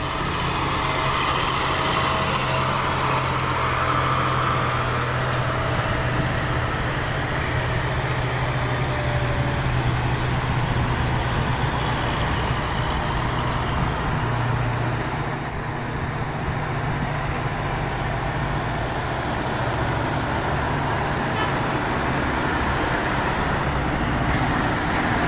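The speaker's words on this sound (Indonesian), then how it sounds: "truk trailer muatan besi ulir" Heavy trailer trucks loaded with ribbed steel rebar grind up a hill road, a steady loud drone of laboring diesel engines and road noise held throughout without a break, no voices.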